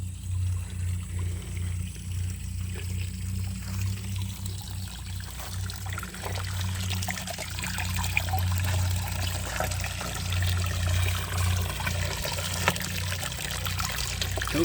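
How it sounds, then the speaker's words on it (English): Steady trickle and pour of water from watering a vegetable garden on a hot day, continuous and close, with a low hum running underneath. "Don't you love to hear that water here?"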